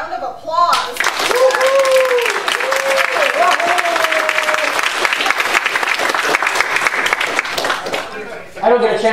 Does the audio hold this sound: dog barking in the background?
no